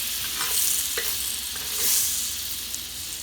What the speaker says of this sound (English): I am going to go ahead and put this butter in here to help cool it down.